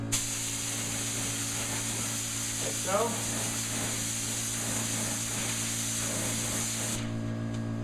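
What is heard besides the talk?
spray gun spraying finish on cabinet edges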